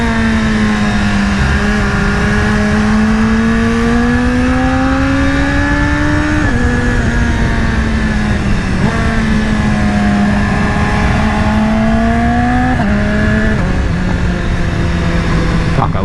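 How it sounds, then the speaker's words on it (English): A motorcycle engine revs loudly and steadily, its pitch rising and falling as the throttle opens and rolls off, with small exhaust pops at the drops; someone talks faintly beneath the continuous engine drone. "when you roll off the throttle, it gives that little pop of unused fuel"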